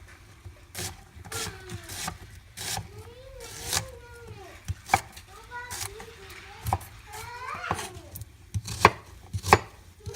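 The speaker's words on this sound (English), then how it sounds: "So just a real quick rough chop." Knife rough-chopping vegetables on a cutting board in a home kitchen, a series of sharp irregular thuds close by, with a voice and other faint talk in the background.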